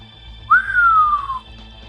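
A single clear whistle from the character Wiro Sableng, a short rising note sliding slowly downward over about a second, heard alone against a faint low hum in an Indonesian audiobook.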